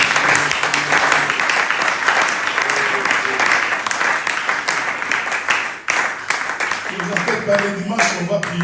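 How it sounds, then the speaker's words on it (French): A church congregation cheers and applauds the Lord with loud, sustained clapping and shouting that fills the room, easing briefly before a voice rises over the dying applause. "Est-ce qu'on peut acclamer le Seigneur?"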